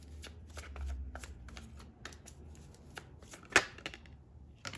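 Tarot cards being shuffled during a reading, a run of quick soft riffles and flicks, close and fairly quiet, with one sharper snap near the end.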